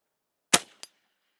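A single sharp shot from an AirForce Escape .25 caliber air rifle cracks loudly and up close, then a brief fainter pop follows; no voices.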